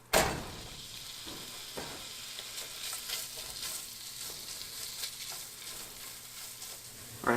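Bacon sizzles in a soup pot for Zuppa Toscana, a close, constant frying hiss with occasional crackles and a few knocks of a utensil at the start and end.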